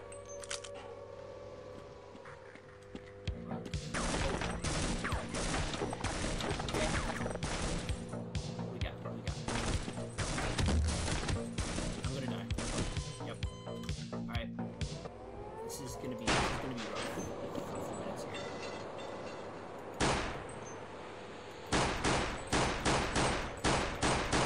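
Repeated gunfire in Half-Life C.A.G.E.D. as the player shoots at an enemy, loud close shots in dense bursts and rapid volleys running through nearly the whole stretch, with a gap near the end before a final string of spaced shots.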